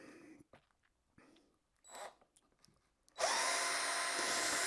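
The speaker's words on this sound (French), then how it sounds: "Là, maintenant, on peut dévisser directement." Faint handling clicks and rustles give way to a power screwdriver whirring loudly and steadily as it unscrews parts of a Gardena 500 robot lawn mower.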